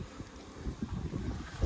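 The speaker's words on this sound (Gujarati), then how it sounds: "જ્યાં મસ્ત મજાનો પવન આવી રહ્યો છે." Breeze blowing in through an open window of a guest room, a soft steady rush of wind noise with low gusty rumbles that swell slightly toward the end, no voices.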